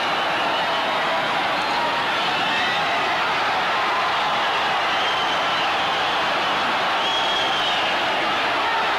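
A boxing arena crowd roars during a featherweight bout as a fighter is pinned on the ropes, a thick, loud, continuous wash of massed voices holding steady throughout.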